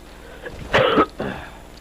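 Two harsh, loud coughs close to the mic, one longer burst followed by a shorter one, from a man playing the game Castle Crashers, with no speech around them.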